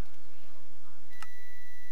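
A short electronic beep in the video game Paranoia 2, a single bright tone burst with a sustained pitch carrying on afterward, over a quiet low background hum.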